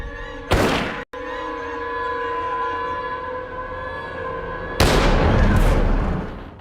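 Two loud, sharp gunshot blasts ring out about four seconds apart in a staged murder reenactment, each with a long decaying tail over a steady background hum.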